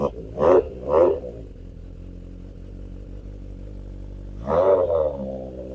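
A 1980 Honda CB750 cafe racer engine sits at a low idle, with two quick throttle blips early on and a third rev near the end. The exhaust burble is close by and no one speaks.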